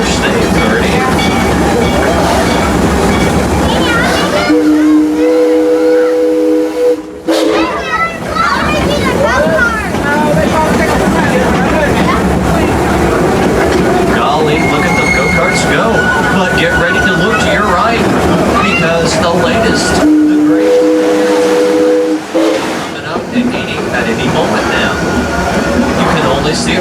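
The green train on the Six Flags railroad rolls along with steady rumbling and rail noise, while a guide talks over it throughout and brief horn-like tones sound twice.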